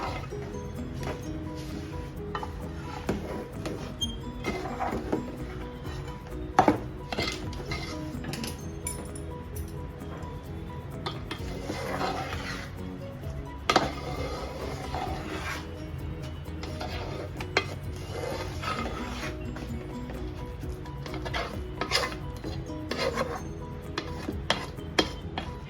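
A spoon scrapes and clinks steadily against a pan while a sesame ladoo mixture is stirred, with a continuous close rubbing texture and occasional sharper metallic taps.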